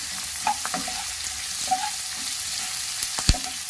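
Onions frying with salt in a pan for puffed rice upma, a steady close sizzle with a few light stirring clinks and a spoon tap near the end.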